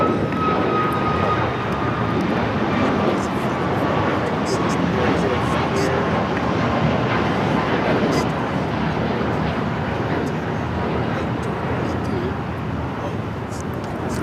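A jet airliner takes off from runway 25 right at LAX, its engines giving a loud, steady broadband roar for the whole stretch while radio chatter and voices run underneath.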